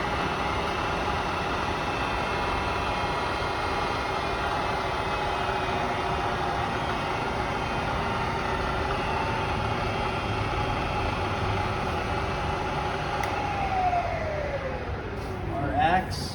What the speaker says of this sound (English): you run the spindle. It's at around 2200 RPM.